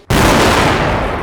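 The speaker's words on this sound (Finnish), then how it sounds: "C4-räjähdys, i-palkin poikkaisu." C4 charge cutting a steel I-beam: a sudden, very loud blast after a brief quiet moment, followed by a sustained roaring, rumbling decay that fills the rest of the clip.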